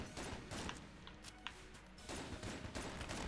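Dense, continuous bursts of rapid gunfire from the bullet-hell game Enter the Gungeon, with sharp shots layered into a busy, loud barrage that runs the whole time without talk.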